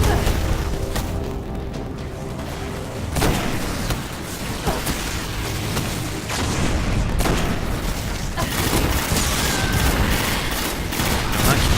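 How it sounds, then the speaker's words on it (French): Dense, continuous gunfire and explosive grenade blasts in the shooter video game Destiny, with booming impacts and rapid shots layered throughout at a steady loud level. "Il y en a un qui me tire dessus là, avec une sorte de grenade."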